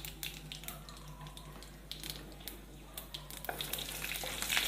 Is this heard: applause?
no